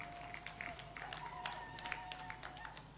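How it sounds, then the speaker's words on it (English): An audience of women clapping at a political manifesto launch rally in Uganda: dense, steady applause from a crowd at a moderate distance, continuous throughout, with a faint sustained tone and voices in the background. "Women clap for His Excellency Yoweri Kaguta Museveni"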